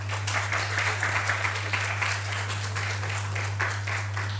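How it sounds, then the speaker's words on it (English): Audience applause fills a gender equality conference hall, a steady, dense patter of many clapping hands over a constant low electrical hum, sustained throughout. "Round of applause for her."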